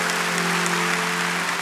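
A church congregation applauding at the opening of a rooftop church in West Surabaya, Indonesia, steady dense clapping from a large crowd with a low hum beneath.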